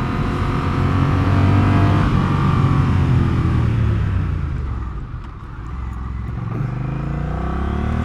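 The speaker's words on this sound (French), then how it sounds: "Un bon freinage et une réaccélération en première que l'on peut amener à 70" A 2021 Honda CMX 1100 Rebel motorcycle engine runs loud and close, easing off under braking with a brief dip in level, then pulling back up as it reaccelerates in first gear.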